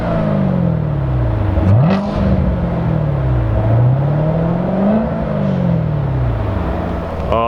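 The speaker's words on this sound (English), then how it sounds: "But let's hear some of that V8 music." A 2015 Chevrolet Corvette Z06 3LZ convertible with a V8 and seven-speed manual revs loudly up and down several times, close and steady, with no talking.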